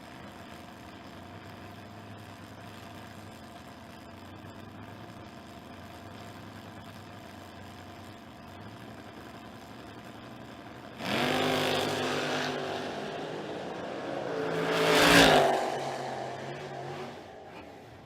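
Drag racing cars, a Nova and a Camaro, launching down the track: quiet idle rumble at first, then a sudden loud roar of engines accelerating, peaking in a sharp, intense blast as they pass close by.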